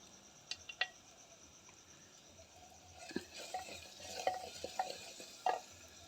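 A spoon stirs and scrapes spice tempering in a pan over a wood-fired stove, with irregular clinks and scrapes over a faint sizzle, growing busier toward the end.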